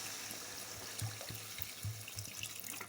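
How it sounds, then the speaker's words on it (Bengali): Water is poured into a pan of frying curry for a thin fish and potato-eggplant jhol, a soft splashing trickle with gentle bubbling pops, faint and close. "এখন এনে এড করব জল।"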